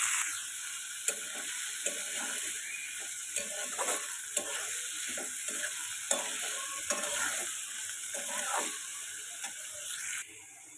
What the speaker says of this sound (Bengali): এগুলো দিয়ে এখানে কাঁঠালের বিচিগুলো কিছুক্ষণ নেড়ে চেড়ে ভেজে নিচ্ছি।